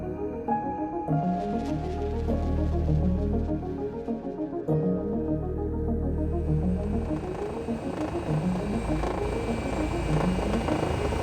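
A Rega rescue helicopter's steady rotor drone and engine hum fills the whole stretch during a rescue training exercise, loud and continuous with a pulsing, rhythmic beat.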